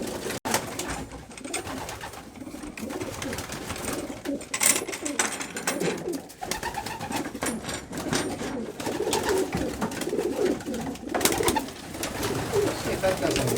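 Pigeons coo inside a backyard loft over a dense rustling, shuffling background with intermittent soft coos throughout, close by and fairly busy.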